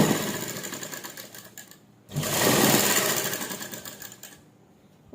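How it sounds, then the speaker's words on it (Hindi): A sewing machine stitches the neckline of a simple suit, running in two fast rattling bursts with a short pause between them and a brief restart at the end, close and clear. "और अब यहाँ तक सिलाई शुरू कर दो"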